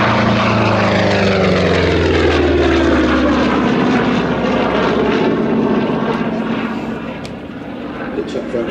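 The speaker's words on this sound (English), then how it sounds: "Cam Rolf Smith putting the P-47 through its paces today." Republic P-47 Thunderbolt warbird making a high-speed pass at an airshow: a loud piston-engine roar that sweeps past with a falling pitch and fades into a distant drone, with a commentator talking over it.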